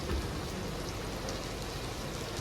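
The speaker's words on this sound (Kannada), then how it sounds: "ಮಳೆ ಬರ್ತಾ ಉಂಟು" Steady rain pours during a day trip to temples, a dense, even hiss of drops that fills the whole stretch with no voices over it.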